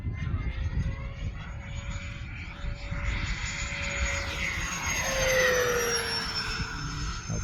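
A Freewing A-10 RC jet fitted with an E-flite EDF makes a half-throttle pass, a steady ducted-fan whine and rushing roar that swells and shifts pitch as it flies by, loud and continuous over wind noise.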